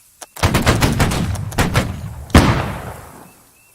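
Rifle volley fired by a rank of soldiers on command, a ragged burst of many close sharp shots cracking almost together, a few stragglers, then one loud final report that rings off.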